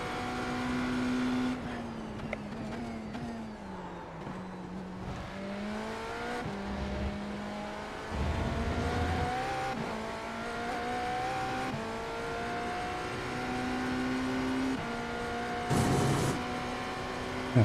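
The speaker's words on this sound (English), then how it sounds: "Sounds like a race car." Race car engine in the iRacing sim, a GTP prototype droning steadily with rising and falling pitch through gear changes and shifts, continuous and close, with no talk over it.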